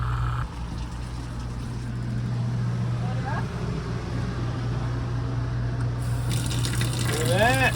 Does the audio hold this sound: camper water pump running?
yes